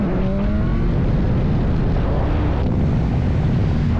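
A motorcycle engine roars at full throttle during a hard acceleration pull, a loud, continuous rush of engine and wind noise with rising tones early, close to the rider throughout.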